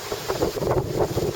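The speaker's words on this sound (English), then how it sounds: "Have to excuse the wind." Wind buffets a microphone outdoors in a vegetable garden among climbing French beans and fruit bushes, a steady loud rumbling roar with gusting swells throughout.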